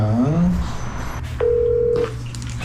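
A telephone number is punched in on a keypad, a few short tone beeps followed by one long steady tone, with a voice talking briefly at the start.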